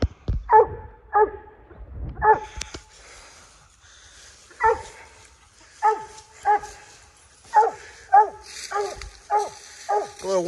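A coonhound puppy barks at a raccoon up a tree, sharp yelping barks in uneven bursts with pauses between them, fairly close and loud, with a few whiny, wheezy notes near the end.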